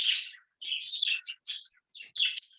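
Small indoor birds chirp in several short, bright bursts separated by brief silences, close and clear with nothing else heard.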